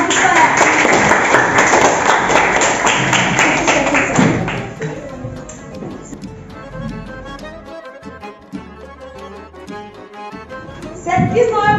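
Applause for a winner of a quiz competition at a school Victory Day event, a dense burst of clapping from a crowd that gradually thins into scattered claps and murmuring, then swells briefly again at the end.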